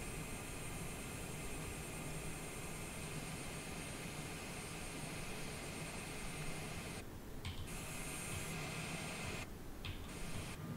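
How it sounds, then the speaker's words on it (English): Steady whine and broadband rumble of a Honda Jet's engines idling while taxiing in Microsoft Flight Simulator 2020, a constant loud drone with no speech. "So everything is pretty much automated. So as soon as we begin taxiing,"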